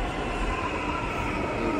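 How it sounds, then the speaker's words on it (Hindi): A Delhi Metro train pulls into a station platform, a steady loud rumble and whoosh of rolling carriages filling the space without pause, close by and without talking. "ये देखिए आ चुकी मेट्रो"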